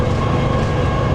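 Train running on railway lines near Basford Hall, a loud, steady close-up rumble and rattle of wheels on track that carries unbroken, with no voices.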